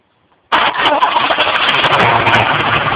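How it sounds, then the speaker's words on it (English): A 1990s GM car's engine is started by jumping the starter. After half a second of near silence it catches abruptly and settles into a loud, steady running rumble. "just jump the starter open. As you can see, the car is running."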